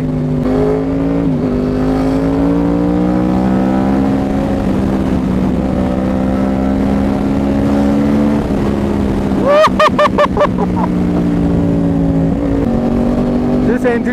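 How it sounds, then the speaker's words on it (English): A 2011 Yamaha R1 sportbike fitted with a loud Toce exhaust drones close by while ridden through Mumbai streets, its engine note rising and falling steadily, with a sharp burst of revs near the end. "This engine just doesn't want to stop revving."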